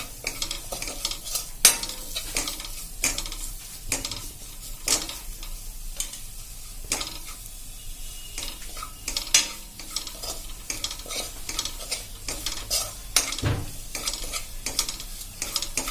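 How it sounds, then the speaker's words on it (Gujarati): Gram flour roasts with spices on a slow flame, stirred continuously: a close, busy scraping and clinking of a spoon over a soft dry sizzle, with regular sharp strokes across the pan. "આ રીતે આપણે 1 મિનિટ લોટને મસાલા સાથે શેકી લેશું"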